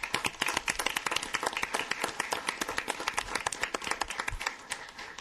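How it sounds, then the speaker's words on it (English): Audience applause at a city council meeting, a steady stretch of many hands clapping in a room at moderate distance, lasting several seconds with no talking over it. "we ought to give them a good round of applause for this"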